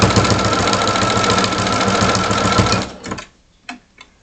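A sewing machine stitches across a fabric tier in a loud, fast, steady mechanical chatter for about three seconds, then stops, followed by a few faint clicks and handling sounds.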